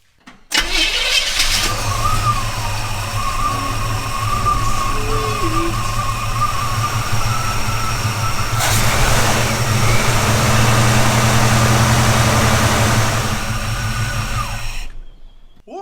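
A 1956 Chevy truck's small-block engine with EFI cranks briefly and fires, then settles into a steady, close, loud idle with a low rumbling hum that holds for over ten seconds before cutting off.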